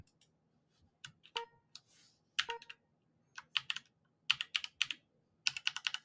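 A computer keyboard typed on in short irregular bursts of crisp, close key clicks separated by brief pauses, with no talking.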